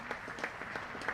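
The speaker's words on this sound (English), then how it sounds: "Applause rings around Headingley." Brief crowd applause at a county cricket match at Headingley, a steady patter of clapping from spectators, moderate and distant-sounding.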